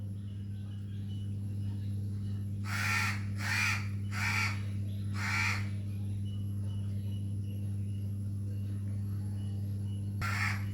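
A crow caws from a nearby branch in a run of four harsh calls, then falls quiet before one more caw near the end, all over a constant low hum.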